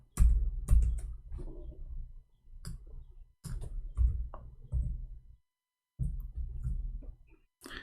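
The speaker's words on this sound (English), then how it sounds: "I'm typing in Arabic, hold on." Keys clatter on a computer keyboard while someone types in Arabic, bursts of close clicks in short runs separated by brief pauses, with no voices.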